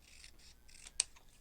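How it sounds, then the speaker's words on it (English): Scissors snipping paper beside a fold while making a junk journal corner pocket, soft close rasping cuts in short strokes ending in one crisp snip, faint and quiet. "you simply go in and cut next to that fold"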